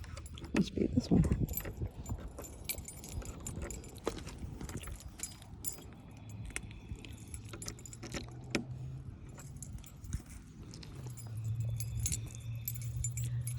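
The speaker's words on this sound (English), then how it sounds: "The keys all look exactly alike." A bunch of look-alike keys jingles and clinks in intermittent bursts while someone hunts for the right one, close and fairly quiet, with a low engine hum rising underneath toward the end.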